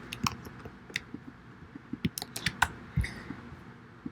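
Someone typing on a computer keyboard, with irregular crisp key clicks and occasional louder taps, close and alone with no talking.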